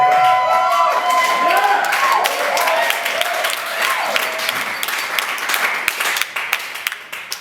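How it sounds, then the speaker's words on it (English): Audience applause and cheering at a stand-up comedy show, a dense, continuous wash of clapping and crowd noise that stays loud throughout and tapers slightly near the end, with a few scattered voices. "I don't know why you're cheering that."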